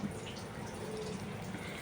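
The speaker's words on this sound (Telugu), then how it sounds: "1 కప్పుకి 2 గ్లాసెస్ వాటర్ పోస్తున్నాను" Water pours steadily into a rice cooker while soya chunk pulao is being made, a continuous close splashing and trickling that holds even throughout with no speech over it.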